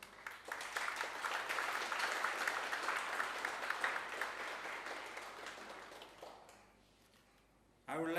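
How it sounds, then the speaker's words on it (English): A corporate event audience applauds a standing project team, a dense wash of clapping that holds steady for several seconds and then fades out, with a voice starting up at the end. "Could you please stand up and give them a big round of applause?"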